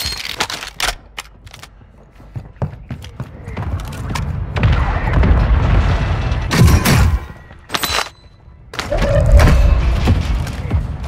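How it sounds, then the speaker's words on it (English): Mortar strike in Call of Duty Warzone 2.0: a run of sharp, closely spaced impacts and booming thuds over several seconds, loud and near, with short pauses between clusters of blasts. "Mortar strike on the way."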